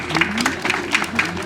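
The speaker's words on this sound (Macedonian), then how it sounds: "Ве молам да ги поздравиме со аплауз." An audience at a young wine tasting event applauds the judging committee, a short burst of scattered, moderately loud clapping with individual claps standing out, with a few voices faintly underneath.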